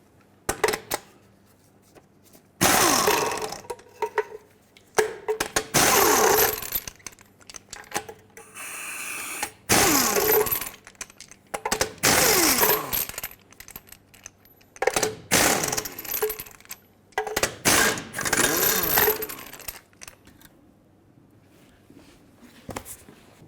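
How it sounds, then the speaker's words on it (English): Lug nuts coming off a 1996-2002 Toyota 4Runner wheel with a 19mm tool: repeated bursts of rapid mechanical whirring and clicking, close and fairly loud, separated by short quiet gaps, with no talking. "Regardless of your size, remove all 6 of your lug nuts, and then we'll remove the wheel."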